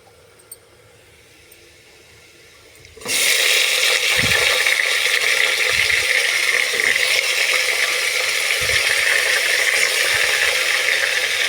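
Meat added to hot oil with onion, ginger and garlic: after a quiet start, a loud steady sizzle erupts and holds, with occasional low knocks of stirring underneath.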